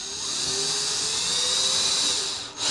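A power drill with a bit runs continuously with a high, steady whine and brief dip near the end, loud and close with no talk.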